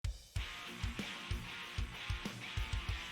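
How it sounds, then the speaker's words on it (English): Halftime drums with heavy kick and snare hits alongside chugging rhythm guitars, playing a slower, emotional section of an anime-style opening track; steady loud beat after a brief quiet start. "so I went halftime on these drums and also the rhythm guitars."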